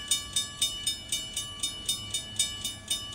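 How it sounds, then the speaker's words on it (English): A lone railroad locomotive engine without cars rolls slowly through a road crossing, giving a steady clickety-clack of wheels over rail joints at an even rhythm, about three beats per second, with a faint steady bell-like tone behind it. "I think that he may be just an engine only, not a train, but just the engine."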